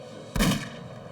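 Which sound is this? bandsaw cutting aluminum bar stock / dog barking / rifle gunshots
rifle gunshots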